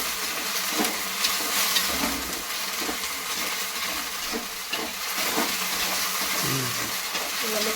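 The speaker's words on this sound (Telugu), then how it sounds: "ఇవన్నీ కలుపుకుంటారు." Gobi manchurian, cauliflower frying in a pan with tomato sauce and soy sauce being stirred in, gives a steady sizzle with scraping stirring strokes close by and no talking.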